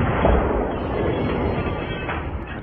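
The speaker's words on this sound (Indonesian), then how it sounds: "Namun sayang ciptaannya itu belum sempurna dan meledak." A rocket-powered car blows up in an action film, giving a sustained, heavy explosive rumble that fills the whole span at steady loudness and fades slightly at the end.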